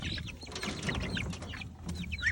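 Several chickens cluck and chatter in short bursts while being offered a garden grub, close by with a faint low background rumble and no talk.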